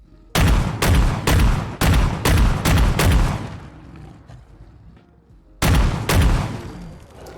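A rapid burst of six loud shotgun blasts from a Fallout 4 shotgun firing standard buckshot, followed by a pause and then two more shots, each with a booming, echoing tail.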